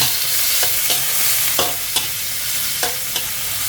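Squid and straw mushrooms stir-fried in a hot pan, for a spicy holy basil dish: a steady sizzle runs throughout, broken by about six sharp scrapes and clacks of a spatula against the pan at irregular intervals.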